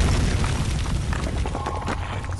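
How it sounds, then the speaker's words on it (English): A dull, muffled explosion in the horror video game Amnesia: The Dark Descent, a sustained rumbling boom with crackling debris that lingers for a couple of seconds without any voices. "Very strange explosion."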